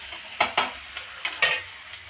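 Malabar spinach and potatoes fry in a pan, with a soft sizzle underneath and several sharp scraping stirs of a utensil against the pan, close and irregular.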